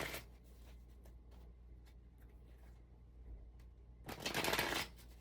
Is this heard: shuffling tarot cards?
yes